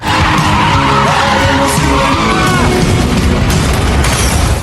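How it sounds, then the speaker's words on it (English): A taxi is struck head-on and flips over: loud, close tire skids and squeals with heavy impact booms and crunching metal, a dense, chaotic burst of crash noise lasting several seconds. "his car was hit head-on and flipped"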